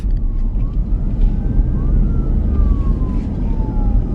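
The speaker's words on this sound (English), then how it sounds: "Is that an ambulance coming down?" An ambulance siren sounds on a street outside a store, a faint wavering wail drifting past under loud, steady traffic and background noise, with no talk over it.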